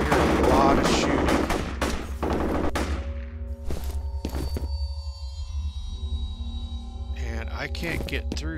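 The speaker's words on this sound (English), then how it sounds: "I hear a lot of shooting." Rapid bursts of gunfire crackle in the shooter game FEAR, loud and dense at first, then thinning into scattered single shots and short volleys over a low, droning game ambience.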